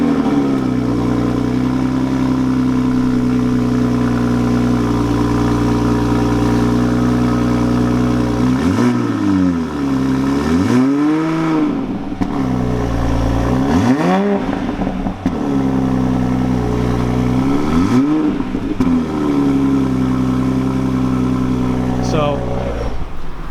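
A 2020 Toyota Supra in sport exhaust mode idles with a deep, steady rumble, then revs sharply three or four times, each rise and fall clear and loud, with people talking nearby.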